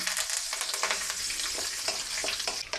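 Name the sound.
mustard seeds spluttering in oil for tempering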